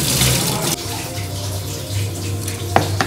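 Water from soaked lentils and rice for dosa batter being washed and poured off in a home kitchen, a steady running, splashing flow with a brief break early on and a couple of small clinks near the end.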